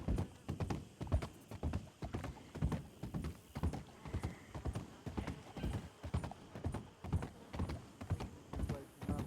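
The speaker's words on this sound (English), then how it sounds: "I don't want to know why there's horses there." Steady rhythmic horse hoofbeats clip-clopping at a brisk pace in a video game, close and clear, with a faint whinny-like sound mixed in.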